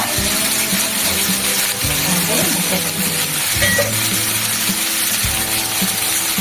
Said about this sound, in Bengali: একটু লবণ আর হলুদ দিয়ে একটু ভেজে নেব